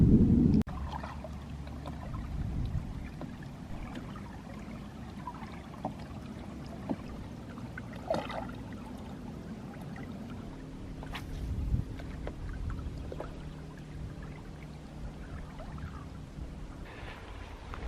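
An Old Town Pack canoe paddled on Ullswater lake: soft water sloshing and occasional paddle splashes and knocks over a low rumble of wind, fairly quiet and continuous, with no voices.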